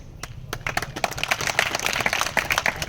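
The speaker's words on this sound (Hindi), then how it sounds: "ताली बजाने का विषय नहीं" Scattered clapping from an audience at a political speech in Kota, a few irregular claps that thicken into brief, moderately loud applause with no talk over it.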